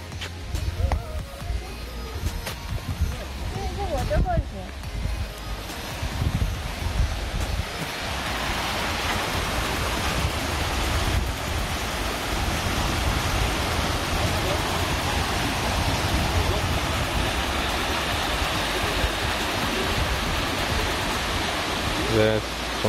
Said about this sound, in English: And there is a waterfall here, I guess.